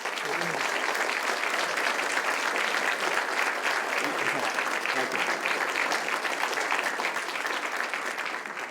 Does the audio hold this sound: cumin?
no